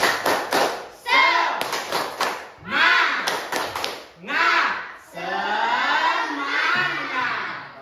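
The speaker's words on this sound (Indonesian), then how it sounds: "Coba tepuk semangat." A classroom of primary-school children does a rhythmic spirit clap, several quick bursts of claps separated by pauses, then the children shout loudly together in a drawn-out cheer.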